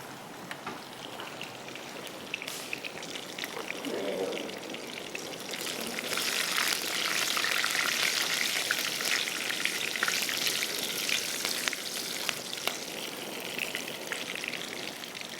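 Onions frying in a pan for khichri: a steady, dense sizzle and crackle that swells louder midway and carries on close and continuous, with no talk.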